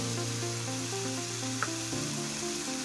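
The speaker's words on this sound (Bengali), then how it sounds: "কাঁচা লঙ্কা দিয়ে যেটা করা আছে এবার এটাকে কষাতে হবে একটু" Green chilli masala with poppy seed paste sautés in a pan for a tangra fish curry, giving a steady, close sizzle with a faint scrape of stirring partway through.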